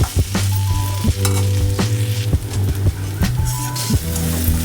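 Potato fry curry sizzles steadily in a pan while a utensil scrapes and clanks against the metal in repeated stirring strokes, loud and close.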